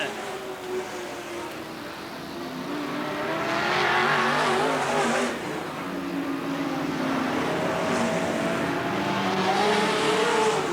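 Race cars roar around a speedway oval in a main event, engines droning and swelling as they pass, with a commentator talking over the continuous noise.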